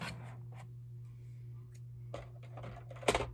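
Scissors cut open a Book of the Month subscription box, making a few faint, crisp snips and scrapes spaced apart over a steady low hum, the last one the loudest.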